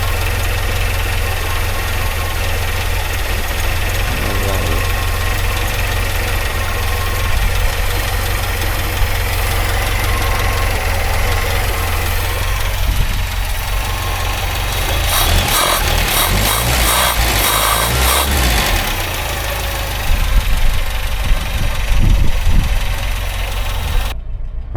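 A Talbot Express van engine with a modified exhaust idles loudly and close, giving a steady, slightly knocking rumble with vibration, with a few brief revs and clanks partway through and no talk.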